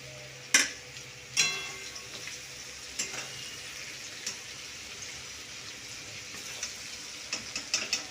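Mixed fried rice with vegetables being stir-fried in a pan: a quiet, steady sizzle broken by sharp, irregular spatula scrapes and clinks, with no talking.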